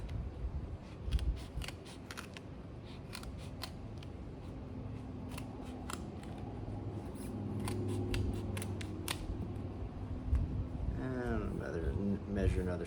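Scissors cut a strip of sticky back craft foam, giving repeated crisp snips in bursts, close up, under quiet talking.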